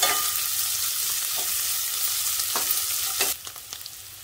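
Onions and dry red chillies frying in a pan for raw mango rice, a steady close sizzle with occasional stirring scrapes and crackles, easing slightly toward the end.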